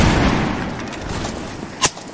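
Musket fire in a multiplayer war game battle between Holland and the Spanish Empire, a crackling burst of many shots merging into one loud rumbling volley, capped by a sharper nearby report near the end.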